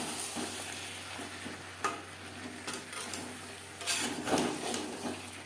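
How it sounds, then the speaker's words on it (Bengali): Potatoes and eggplant are stirred and fried over medium flame in a kadai, giving a soft steady sizzle broken by scattered scraping clicks of the spoon, fairly quiet and close. "আলুর সাথে বেগুন বেশ ভালো করে মিক্স করে দেবো তিন চার মিনিট মিডিয়াম ফ্লেমে নাড়াচাড়া করে নেব"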